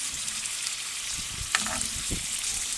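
Potatoes fry in vegetable and olive oil in a new cast iron pan over charcoal, a steady close sizzle with a brief scrape of stirring midway.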